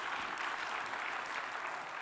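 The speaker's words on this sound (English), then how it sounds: "Give them a big round of applause." Audience applause at a Cloud Summit 2018 tech conference keynote, heard as an even, continuous wash of clapping from a large crowd, fairly distant and soft.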